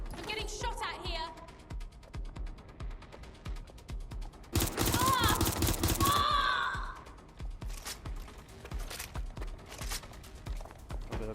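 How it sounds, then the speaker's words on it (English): Burst of gunfire in Watch Dogs Legion, a dense loud volley lasting about two seconds midway, surrounded by game sounds and bits of voice. "I'm getting shot at here."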